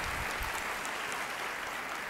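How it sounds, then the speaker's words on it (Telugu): A church congregation claps loudly and steadily in praise, a thick, continuous patter of many hands with no break. "గట్టిగా చప్పట్లు కొట్టి ప్రభునామమున మహిమపరచు"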